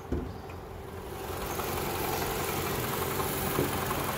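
The 2.5-litre inline four-cylinder engine of a 2014 Toyota Camry with 145k miles idles steadily nearby, a smooth, even hum throughout.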